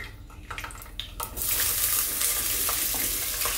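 Green chillies hit hot oil in a pan and burst into a loud, steady sizzle that runs to the end, after a few clinks and light kitchen knocks.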